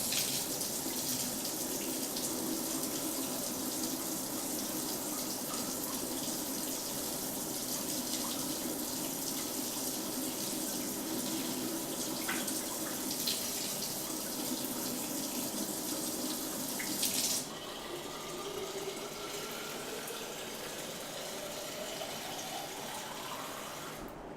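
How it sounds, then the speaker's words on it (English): A kitchen tap runs steadily while water fills a container, a continuous close splashing rush whose pitch climbs as the vessel fills, then the flow quiets and softens near the end. "Just getting a water refill while the butter melts."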